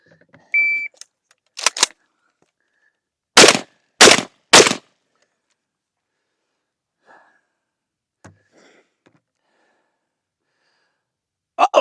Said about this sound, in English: 3 shots in less than 4 seconds